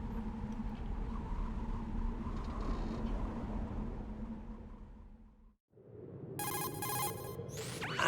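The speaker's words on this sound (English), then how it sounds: "I'm getting a phone call." A telephone rings for an incoming call in a video game, two bursts of bright electronic trilling heard after a long stretch of low rumbling ambience that drops briefly into near silence.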